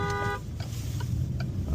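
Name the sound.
car horn honking in traffic in France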